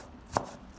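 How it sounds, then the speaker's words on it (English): A single crisp knife stroke cuts peeled ginger into thin strips, one short sharp knock on a cutting board against a quiet background. "Take a piece of peeled ginger, slice it thinly, then cut into strips"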